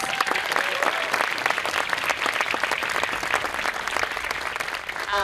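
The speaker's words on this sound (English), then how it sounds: "Let's give them another round of applause" A graduation ceremony crowd applauds the student band, a loud, sustained wash of many hands clapping, with individual claps standing out close by and little else beneath it.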